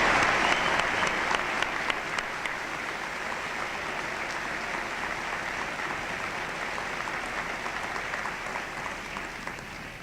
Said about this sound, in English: Let's give all of these graduates a round of applause.